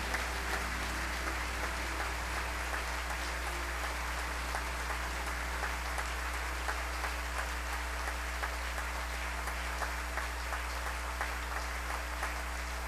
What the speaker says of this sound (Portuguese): Aplauda Jesus bem forte, bem bonito.